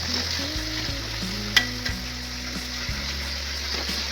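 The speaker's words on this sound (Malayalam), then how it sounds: "ബ്രൗൺ കളറാവണ വരെ വറുത്തെടുക്കണം" Chicken frying in a pan until brown, with a steady sizzle, broken by the scrape and clatter of stirring, plus one sharp knock partway through.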